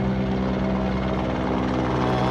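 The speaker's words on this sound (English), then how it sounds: "I have too much of helicopter flying over my head." Helicopter passing overhead during outdoor orchid repotting, a loud, steady rotor thump and engine drone that fills the whole stretch without fading, with no talk.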